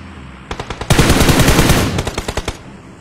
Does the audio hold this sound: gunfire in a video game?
yes